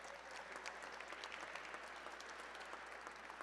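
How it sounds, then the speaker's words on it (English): Applause at a national gala, a steady, dense wash of many hands clapping that continues evenly and sounds distant. "Another round of applause for Mark."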